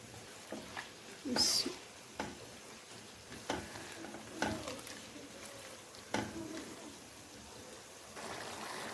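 Beef karahi sizzles in a pan without spices yet, with scattered scraping strokes of a spoon stirring the meat over a low, steady frying hiss, close and moderately quiet.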